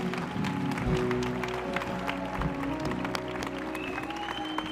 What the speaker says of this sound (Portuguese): por favor, vamos aplaudir, irmãos